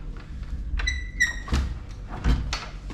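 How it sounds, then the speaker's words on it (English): A sliding door to a hotel room balcony on a Thai train trip slides open with a squeaky scrape and a couple of soft thuds, close by, against faint room noise. "What is this door?"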